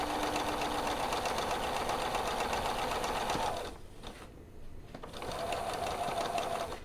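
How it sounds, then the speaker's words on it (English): Old sewing machine stitching slowly over pins while piecing quilt blocks, a steady close mechanical whir and rapid needle clatter that briefly drops off before resuming. "And I do sew over my pins, but I go incredibly slow when I do it."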